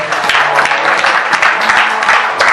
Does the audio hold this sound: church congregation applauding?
yes